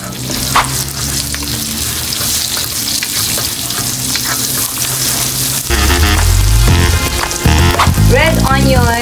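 Garlic frying in oil for a Singapore-style curry vermicelli noodle dish, a steady close sizzle with stirring clatter, growing louder and busier toward the end as more goes into the pan.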